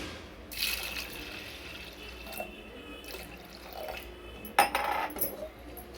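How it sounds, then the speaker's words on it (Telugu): Water poured from a tap into a pot of washed toor dal, faint splashing and trickling with a few brief louder gushes and drips, quiet and close, no voices. "ఇప్పుడు వాటర్ వేసుకుందామండి"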